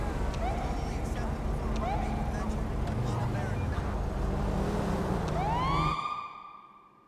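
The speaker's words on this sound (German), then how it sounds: "Wenn ich hier irgendwie die R-Taste drücke, kommt jetzt schnell hier die Sirene." A police car siren in the police simulation game LSPD:FR wails steadily over engine and street background, then ends in a final rising sweep before cutting off abruptly.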